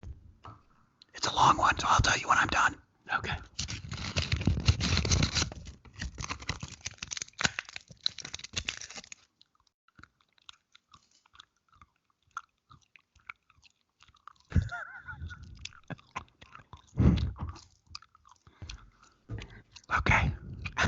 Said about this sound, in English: It's gum. Like that was me taking it out of the package.